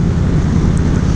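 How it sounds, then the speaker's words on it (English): Wind buffets the microphone in a steady low rumble, loud and continuous for the whole moment. "It's a pretty windy November day"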